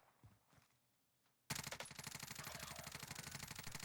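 A Groza rifle in the Warzone video game opens up after a quiet start, with rapid, loud, steady automatic gunfire that runs without a break to the end.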